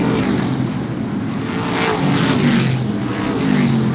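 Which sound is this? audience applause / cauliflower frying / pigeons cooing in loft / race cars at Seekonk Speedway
race cars at Seekonk Speedway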